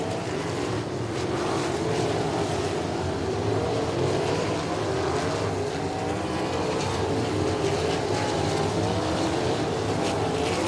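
Sprint cars race at Lincoln Park Speedway, their engines blending into a loud, continuous droning roar that holds steady for about ten seconds without speech on top.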